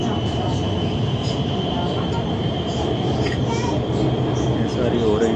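Lahore Orange Line metro train running, a steady loud rumble of motion and rail noise that continues throughout, with faint indistinct voices in the carriage.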